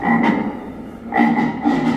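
A frog croaking sound effect plays loudly and close, three croaks spaced unevenly over about two seconds, each a raspy pulsed call with no talking.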